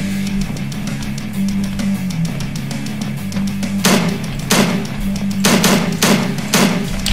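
Gunfire in the video game Slendytubbies: Awakening, sharp shots cracking out in short bursts of two and three over a droning background hum, loud and close.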